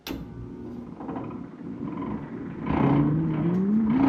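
A Fosdick radial drill powers up, its motor humming steadily before the pitch rises into a louder, climbing whine as the spindle spins up through a coupling, with mechanical clatter underneath.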